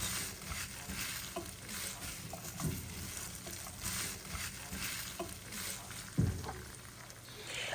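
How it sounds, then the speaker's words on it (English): Chicken gizzards tossed in green chili sauce in a pan, a steady low sizzle with soft scraping stirs and a couple of louder clanks of utensil against the pan, no talking. "So just toss your gizzards"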